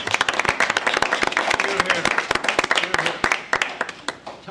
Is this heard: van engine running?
no